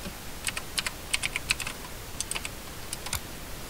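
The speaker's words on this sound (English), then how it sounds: "go ahead and type in Google Chrome" Rapid bursts of keystrokes on a computer keyboard, typing a search into a web browser during a Windows 7 PC setup, close and fairly quiet, in short irregular clusters with pauses between.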